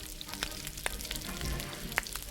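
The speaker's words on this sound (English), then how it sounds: "you put your onions into your hot fat" Onions sizzle in hot rapeseed oil in a pan, with a steady close crackle and a few sharper pops standing out above the hiss.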